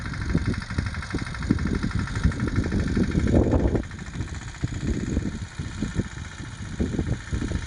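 A tractor engine rumbles steadily at idle on a sesame farm, with slight surges in the middle; no voices, fairly close and moderately loud.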